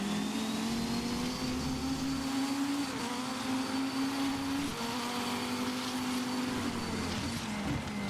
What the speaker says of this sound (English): You can hear the car really pushing through those brakes as it comes through